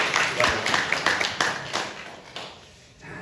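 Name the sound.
church congregation applauding the choir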